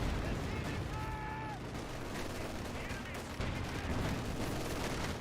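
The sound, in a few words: Gammon bomb explosion and gunfire in video game Company of Heroes 2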